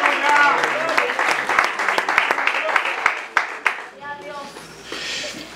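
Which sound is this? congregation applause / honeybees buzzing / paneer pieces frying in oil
congregation applause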